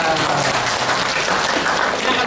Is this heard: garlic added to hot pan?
no